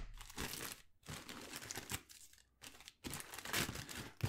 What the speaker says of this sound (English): I don't want to rip the paper.